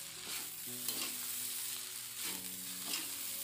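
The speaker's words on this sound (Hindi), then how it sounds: "हम अच्छे से इसको फ्राई करेंगे।" Leftover rice fries in a pan, giving a quiet, close sizzle with a few short stirring scrapes over a few seconds.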